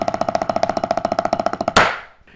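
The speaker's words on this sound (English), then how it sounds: "A nice strong double stroke roll should sound something like this." A drum double stroke roll played as an even, rapid stream of paired strokes for about two seconds, close and crisp, ending on a loud accented hit that rings out and decays.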